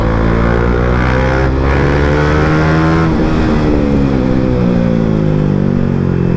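A KTM RC390 motorcycle on the road, its engine droning loud and close with rising and falling pitch as it accelerates and shifts, mixed with heavy wind rush.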